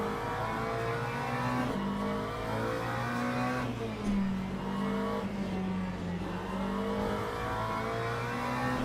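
Race car engine in the sim racing game Le Mans Ultimate, a steady droning drone with shifting pitch as the car runs on, continuous and fairly loud with no talk over it.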